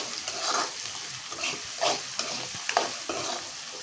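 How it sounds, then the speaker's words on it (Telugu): Salted onions sizzle steadily in a pan while being stirred, giving a continuous close frying hiss broken by scraping stir strokes. "సాల్ట్ వేసుకున్నాం కదండి, ఒకసారి కలుపుకుందాం"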